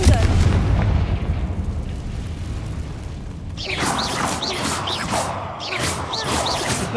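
Confringo spell explosions in the Hogwarts Legacy video game go off as heavy booms, followed by crackling, chirping game effects.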